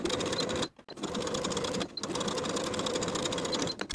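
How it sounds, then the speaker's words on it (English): Sewing machine stitching a facing to a dress neckline, rapid steady mechanical whirring in close bursts broken by two short pauses. "Then I'll sew the facing to the neckline edge of the back piece in the same way as I did for the front piece"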